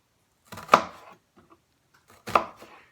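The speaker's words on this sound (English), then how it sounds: "you're going to make vertical cuts down the center" Two sharp knife strokes through a halved onion, each a crisp chop onto the cutting board followed by a brief scraping tail, spaced about a second and a half apart in a quiet kitchen.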